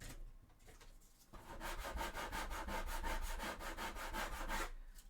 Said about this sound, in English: So let's give it a bit of a sand